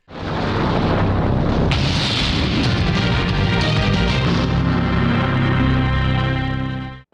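Rocket launcher blast in the anime Shoujo Commando Izumi: a sudden loud explosion bursts in and a sustained, roaring rumble of fire and debris fills the whole stretch at close range before cutting off abruptly.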